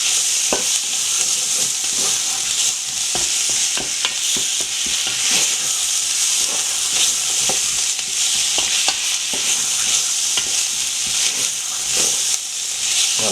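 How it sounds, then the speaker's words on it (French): Spiced meat and sausages for a Réunion-style cari sizzling loudly in a pan, a dense continuous frying hiss with steady scraping and clicking strokes as the spices are stirred through, close and without speech. "on tourne bien en tout cas les épices, que ça se mélange bien"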